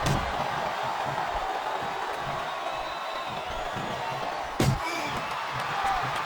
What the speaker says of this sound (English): Sounds like this crowd's got something on their minds